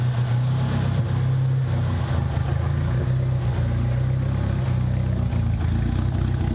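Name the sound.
Nissan 200sx turbo engine running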